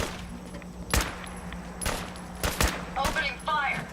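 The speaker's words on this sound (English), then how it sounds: "Opening fire." Gunfire in the video game Fallout 4: a few sharp shots near 1, 2 and 2.5 seconds, then quicker clattering bursts near the end, over a steady low game hum with faint background voice.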